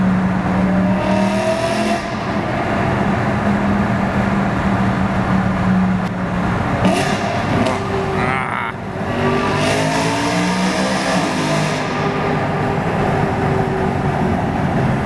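Loud revving of a BMW E92 M3's S65 V8 fitted with an Eventuri intake, rising in several pulls with short gaps between shifts, heard from inside the car in a tunnel without speech.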